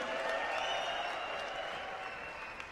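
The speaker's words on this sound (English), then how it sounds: "Every one of them deserves a massive applause." Applause from the audience at a youth pitch competition for the finalists, a steady wash of clapping with some cheering that fades slightly toward the end, with no clear talk.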